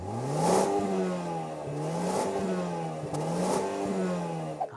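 A 2024 Mazda CX-5 engine revs repeatedly, rising and falling in three strong surges with a throaty exhaust note, loud and close, no talking.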